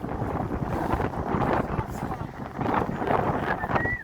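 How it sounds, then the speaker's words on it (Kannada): Strong wind buffets the microphone on a breezy hilltop near a peak in Chikmagalur, a steady low rumbling roar with gusts swelling and easing throughout, close and loud. "ಗಾಳಿ ಜಾಸ್ತಿ ಇರೋದ್ರಿಂದ ಅಷ್ಟಾಗೇನು ಕೇಳಿಸಲ್ಲ ಅನ್ಕೊಂತೀನಿ"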